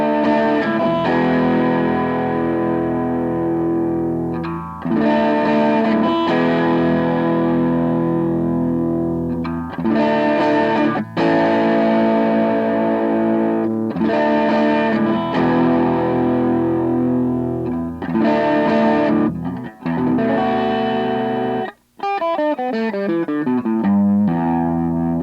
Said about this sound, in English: it's just a little overdrive to give my tone some dirt